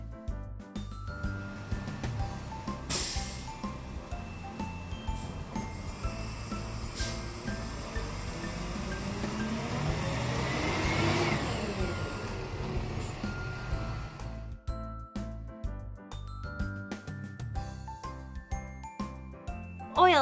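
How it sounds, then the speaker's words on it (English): Garbage truck with air brakes in a city street, its engine rumbling steadily with a rising swell of mechanical noise, sharp hiss bursts, and clinking metallic jingles over about twenty seconds, no talk. "Garbage truck."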